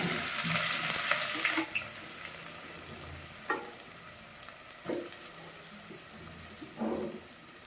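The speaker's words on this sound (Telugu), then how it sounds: "ఇప్పుడు ఆనియన్స్ బాగా ఫ్రై అయిపోయినాయి." Onions with cinnamon and cloves frying in a pan for gongura chicken, a steady sizzle up close broken by several scraping stirs of a spoon, with no talking.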